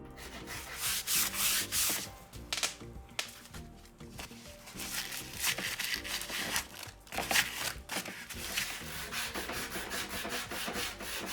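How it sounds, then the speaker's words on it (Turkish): Steady abrasive rubbing of sandpaper on the corners of painted furniture, with quick back-and-forth strokes that continue almost without pause, close and fairly loud. "önce köşelerde zımpara işlemi yapacağım"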